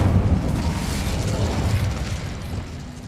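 An Incendio fire spell blast in the Hogwarts Legacy video game, heard as a loud, sustained roaring burst of flame that fills the whole moment and ends with a sharp hit.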